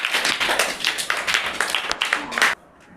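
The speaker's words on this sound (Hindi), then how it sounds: "इसके लिए जोरदार ताली बजाइए" Schoolchildren in a classroom clap enthusiastically in quick, uneven bursts, the applause loud and close before stopping abruptly into near silence.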